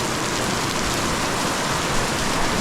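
Heavy rain pours steadily in a downpour in the Philippines, a dense, loud, unbroken hiss of water striking surfaces with no pauses or voices.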